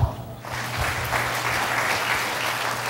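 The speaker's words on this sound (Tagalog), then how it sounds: "Ngayon ang pumalakpak talaga mga tao rito." A church congregation at a Sunday service bursts into applause, a steady wash of clapping that holds evenly after a brief onset, with a low hum underneath.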